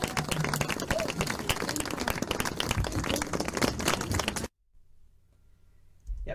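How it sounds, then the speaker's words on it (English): An audience applauding at the end of a speech: dense, steady clapping for about four seconds that cuts off abruptly into near silence. "Yep, so people applaud the end there"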